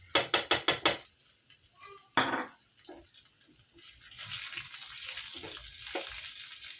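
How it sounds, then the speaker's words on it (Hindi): Garlic and cumin seeds crackle and sizzle in hot oil while tempering for a Konkani-style fish meal, with a burst of sharp clatters at the start and a soft, steady frying hiss swelling later. "पहले लहसुन को अच्छे से ज़रा ये करने देंगे, तड़कने देंगे।"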